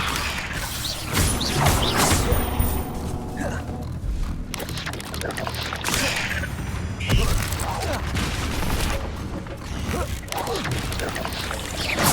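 Spell effects crackle, whoosh and clatter in Hogwarts Legacy as Leviosa and Expelliarmus are cast, a busy, loud run of magical bursts and mechanical rattles beneath a voice calling out spells.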